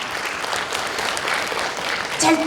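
Audience applause fills a Hwaseong city town-hall concert, steady crowd clapping of moderate loudness that swells briefly near the end.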